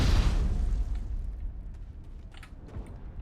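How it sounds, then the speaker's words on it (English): Grenade blast in the sci-fi shooter Mass Effect: a loud, wide burst at the start that thins into a low rumbling tail, with faint crackles and scattered debris-like ticks afterward. "Oh, they're like regular grenades."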